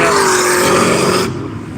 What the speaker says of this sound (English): here comes the Goodyear Camaro finishing